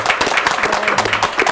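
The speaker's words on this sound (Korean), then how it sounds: "박수 칠까요?" An audience at the end of a lecture gives a short burst of loud, close applause, with many hands clapping together in a dense, even patter.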